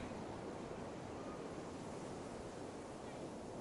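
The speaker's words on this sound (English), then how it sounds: "The Atlantic smashes into shore with relentless violence." Atlantic ocean waves crash on an Icelandic black sand beach: a continuous dense roar of surf and wind, loud and unbroken throughout, with no voices.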